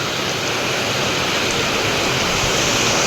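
Rain pours steadily at night, a dense even hiss that fills the scene without pause, loud and close with no other sounds standing out.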